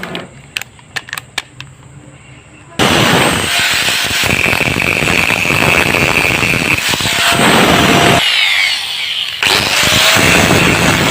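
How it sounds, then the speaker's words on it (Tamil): An angle grinder grinds down a cracked weld. A few faint knocks come first, then a loud, sustained harsh whine with a short dip in the middle, close and continuous. "இப்போ பார்த்தீங்கன்னா இந்த மேலே வந்து கிரைண்டிங் பண்ணிவிட்டு நான் உங்கள்கிட்ட காட்டுறேன் வீடியோவில்."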